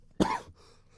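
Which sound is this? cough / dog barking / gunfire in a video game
cough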